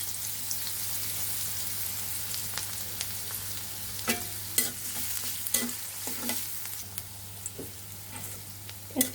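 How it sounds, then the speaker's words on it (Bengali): Chopped onion frying in hot oil with browned ingredients in a pan, a continuous close sizzle with a low steady hum beneath, punctuated by sharp spatula scrapes and taps that grow more frequent. "এখন আমরা পেঁয়াজ কুচি দিয়ে দিব।"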